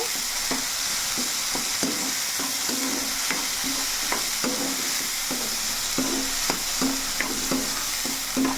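Egg curry masala paste frying and sizzling in a pan, a steady close crackle broken by repeated spoon stirs and scrapes at a regular rhythm, with no voices.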